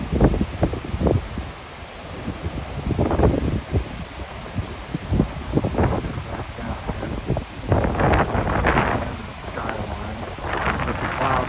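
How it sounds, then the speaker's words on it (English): Strong gusts of wind blowing on a beach buffet the microphone, producing loud, irregular rumbling bursts with faint surf or boat noise underneath. "I'm hoping the wind's not just ruining this video"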